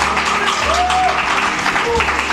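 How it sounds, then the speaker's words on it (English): A studio audience at a televised Law versus English debate applauds a law student, broadband clapping sustained for a couple of seconds with steady loudness, low hum and a faint tonal sweep underneath. "Please, let's give her a round of applause."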